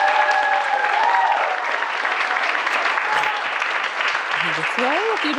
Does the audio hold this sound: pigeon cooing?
no